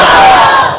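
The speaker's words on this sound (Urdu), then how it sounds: "نعرہ تکبیر۔" A large crowd at a religious conference roars a loud, unified chant of the Takbeer slogan, one massive burst of voices that trails off within a second.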